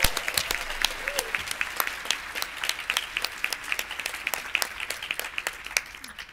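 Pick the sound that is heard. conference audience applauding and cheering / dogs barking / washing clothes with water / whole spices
conference audience applauding and cheering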